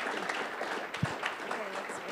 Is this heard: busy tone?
no